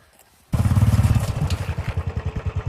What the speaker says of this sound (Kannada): ಗಾಡಿ ಹರಿಸ್ತೀನಿ ನೋಡಿ ಈಗ